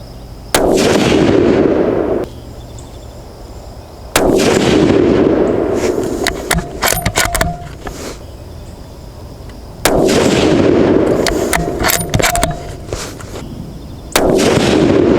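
Four loud, sharp rifle shots from a Savage 12FV firing Hornady 178g ELD-X loads ring out at regular intervals several seconds apart, each a close blast with a lingering rumbling tail.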